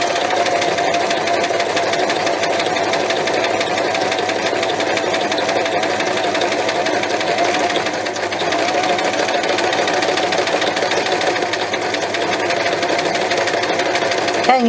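A sewing machine runs steadily while stitching two pockets, a continuous loud mechanical whirring hum close up with no talking over it.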